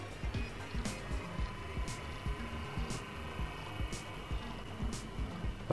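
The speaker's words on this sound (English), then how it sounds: "you may be able to hear a bit of motor noise, which suggests the motor bearings have run dry" Bachmann Class 24 model locomotive running with dry motor bearings gives a faint steady mechanical hum with light periodic ticking and occasional sharper clicks, quiet and close throughout.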